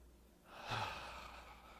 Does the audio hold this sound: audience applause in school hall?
no